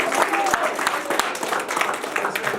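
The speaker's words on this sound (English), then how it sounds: "So give a round of applause for him." An audience at a youth football team event applauds a New York Jets player, a brief burst of dense clapping with a voice partly over it.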